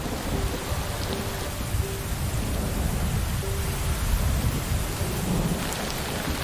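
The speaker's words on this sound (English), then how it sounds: "The iron grip of the dry season is dramatically released as the November rains soak the parched ground." Heavy November rain pours onto parched savanna ground after the dry season, a dense, steady roar of drops close by with low rumbling underneath, continuous and without voices.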